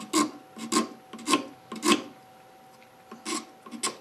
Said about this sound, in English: using the scraper, I'm just going to very carefully begin to remove stock right at the end there.